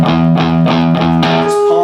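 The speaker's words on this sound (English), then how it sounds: "we're going to be palm muting just the 6th string" Distorted electric guitar chugs palm-muted notes on the low sixth string in a steady driving rhythm, close and loud.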